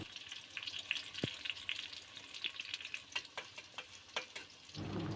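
Onion frying in hot oil in a wok, for a gourd and prawn curry, gives a steady close sizzle with scattered crackles and pops and a few sharper clinks from stirring.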